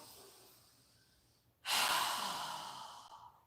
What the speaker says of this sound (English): We're going to inhale through our nose, and we're going to exhale through our mouth.